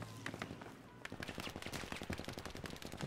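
Rapid gunfire from the Battlefield 5 video game in online multiplayer, dense bursts of sharp shots crackling continuously for several seconds, fairly loud and close.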